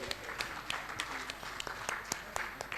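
An audience at a meeting of national directors breaks into applause, a thin, moderately distant patter of clapping with scattered sharper claps, under a faint murmur of voices.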